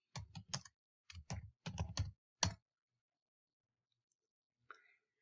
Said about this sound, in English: you're going to type right in here, Google Keep.